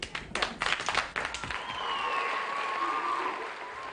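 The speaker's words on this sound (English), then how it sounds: "So let's give him a cheer." Audience at a school celebration honouring Martin Luther King applauding; a burst of separate claps at the start gives way to steady mid-distance applause, with a faint whistle-like cheer running through it.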